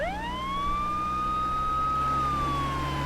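A police jeep or ambulance siren wails in a dense forest, starting with a quick rising sweep and then holding one long, steady, moderately loud tone with no voices.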